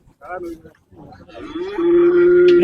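A cow at the Jethua livestock market lows loud and close, starting with short grunts and building into one long, sustained moo that lasts to the end.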